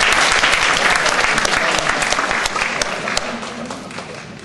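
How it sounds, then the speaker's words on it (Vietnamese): An audience at a literary anniversary gathering breaks into loud, dense applause that carries on throughout and slowly eases toward the end. "quý vị một tràng pháo tay cho người rất là"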